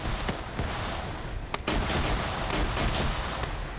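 Grenade machine gun firing at a gas vehicle in a military video game, a sustained barrage of loud, dense blasts and rattling shots, close up, with a brief pause before the firing resumes.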